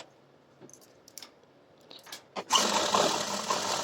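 A sewing machine stitches round the folded waistband channel of a two-panel salwar, where the drawstring will go. Faint clicks come first, then a steady, loud running whir from about halfway through to the end.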